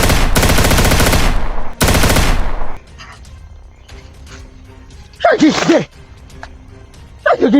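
Two long bursts of rapid automatic gunfire, loud and close, fired back to back, followed by quieter gaps with a few scattered sounds and short noisy bursts later on.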